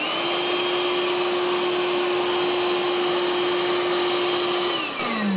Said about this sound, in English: now the vacuum has a little blower.